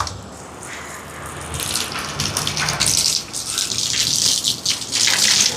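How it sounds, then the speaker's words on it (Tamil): Tap water gushes into a cooking pot, starting softer and swelling into a loud, splashy rush that holds steady with small surges as the pot fills. "இப்போ பாத்திரத்தை வச்சாச்சு, தண்ணி எடுப்போம்."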